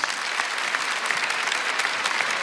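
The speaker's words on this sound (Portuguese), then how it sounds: "Pode aplaudir Jesus." A church congregation at a live Catholic broadcast breaks into applause, a dense, steady wash of many hands clapping without pause and with no voices.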